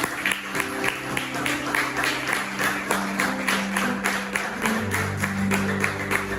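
A church congregation claps together in a steady, rhythmic beat that is loud and close, with sustained organ or keyboard tones and crowd voices underneath.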